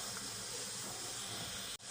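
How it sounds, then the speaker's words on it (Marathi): A pressure cooker on a gas stove, cooking chicken gravy, lets off a loud continuous hiss of steam that holds steady, then cuts off abruptly near the end. "त्याच्या कुकरला आता प्रेशर आलेलं आहे"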